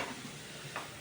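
Bael fruit pulp fries in oil, a faint, steady sizzle with soft stirring scrapes, quiet and close with no voices.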